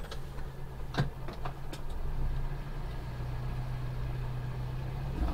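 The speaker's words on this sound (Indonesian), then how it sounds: "Oke, kita masukkan gigi mundur." A manual car shifting into reverse in a parking lot: a few sharp clicks and clunks from the gear change, then a low, steady engine idle rumble close by.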